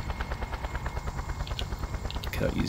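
Rhythmic helicopter rotor thumping with engine drone in the video game Just Cause, steady and fairly loud, with a brief brighter burst near the end.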